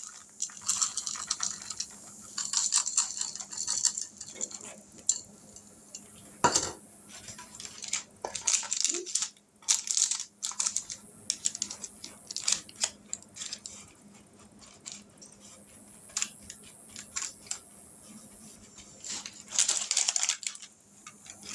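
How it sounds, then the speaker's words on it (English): Topping sprinkled over a layer of graham crackers for seven-layer magic cookie bars, heard as quiet, scattered light ticks and taps with clinking handling in between, close and without speech. "So now we're going to sprinkle this over the graham crackers."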